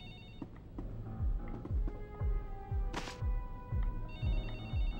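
A telephone rings repeatedly in The Da Vinci Code video game, a bright electronic trill in regular bursts over a low rhythmic thumping background and faint game sounds.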